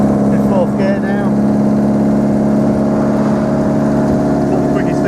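A 1938 MG Midget TA roadster cruising in fourth gear at about 40 mph, its engine giving a steady, loud drone throughout with someone talking over it.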